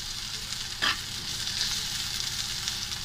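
Tomatoes sautéing in a pan, a continuous soft sizzle with a brief louder burst as something is stirred or added.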